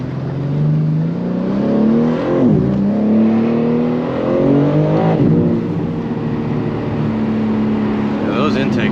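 A tuned BMW G80 M3 making about 700 horsepower accelerates through its gears on a street, the intake and engine droning loudly from inside the car with rising pitch sweeps and brief dips at each shift, under continuous talk.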